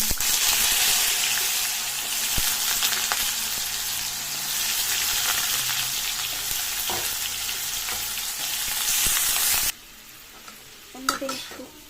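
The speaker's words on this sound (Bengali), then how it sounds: "তেল দিয়ে দিচ্ছি জিরা আর তেজপাতা ফোড়ন দিলাম আলু" Cumin seeds, bay leaf and potatoes frying in hot oil for a fish curry, a loud, hissing sizzle that runs steadily with occasional stirring clicks, then cuts off abruptly near the end, leaving faint clatter.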